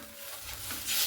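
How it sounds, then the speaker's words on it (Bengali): Fish curry masala being stirred in a pan after water is added, soft scraping and swishing with a gentle simmer, brief and fairly quiet. "এরপর আমি দিয়ে দিচ্ছি জলটা দিয়ে এইভাবে খুব ভালো মতো করে একটু নাড়াচাড়া করে নিলাম"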